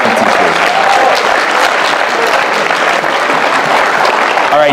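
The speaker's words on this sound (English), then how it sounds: "Can we give our teachers a round of applause?" A school audience at Morgan High School applauds its teachers in a steady, dense burst of clapping that holds at full volume for nearly five seconds, with no speech over it.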